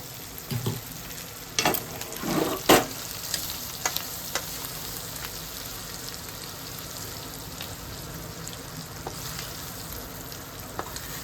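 Local shrimp fry in hot oil with a constant close sizzle, broken by a few sharp clattering knocks of a utensil in the first few seconds.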